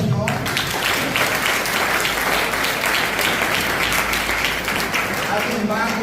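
Loud, continuous applause from a church congregation during a sermon, dense and even throughout, with a voice speaking briefly at the start and again at the close.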